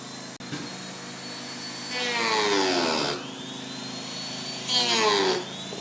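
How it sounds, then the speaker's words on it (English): Dremel 3000 rotary tool spinning a small cutting wheel while working on a 2019 Toyota 4Runner rear valance, a steady whine with two louder bursts as the wheel bites in. "we're using our Dremel. It's a Dremel 3000 like we used in our other video. And he just got a small cutting wheel in there."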